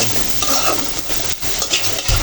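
Shrimp cooked with sweet pumpkin is stir-fried in a pan, a loud close sizzle with brisk scraping and stirring strokes and a thump near the end.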